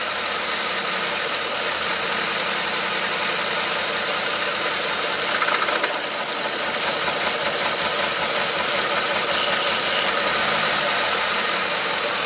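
A Ford 5.4L 3V V8 engine runs with its VCT solenoids unplugged and little torque: a steady, close rumble with a slightly rough, knocking texture that continues without a break and no voices.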